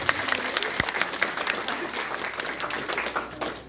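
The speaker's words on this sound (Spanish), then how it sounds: "Los aplausos fuertes." Loud applause from a crowd at a civic mass wedding ceremony, sharp dense claps continuing throughout with faint voices underneath.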